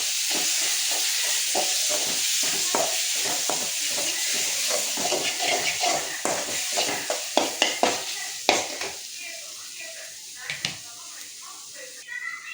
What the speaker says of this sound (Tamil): சிம்மில் வச்சுட்டு வதக்கிப்போம்.